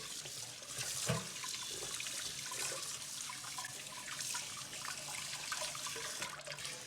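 Deveined shrimp being rinsed under a running kitchen tap, a steady soft rush of water with a splashy burst around one second, fairly quiet and without talk.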